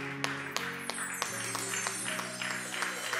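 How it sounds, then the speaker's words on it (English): A church congregation at a prayer meeting claps along in a steady, fairly quick rhythm, the claps faint and set against sustained music and some voices. "clap your hands for the Bible"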